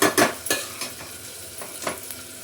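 A spiced masala paste for pumpkin curry and chole is roasted dry in a kadhai, giving close scraping stirs with a soft sizzle, a few sharper spoon strokes early on, then quieter frying.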